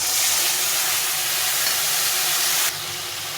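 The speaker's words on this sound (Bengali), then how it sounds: "মশলাটা এই পেঁয়াজের মধ্যে দিয়ে দেবো" Spice paste thinned with water hits frying onions in a pan for a fish curry, giving a loud, continuous sizzling hiss that drops slightly in level near the end.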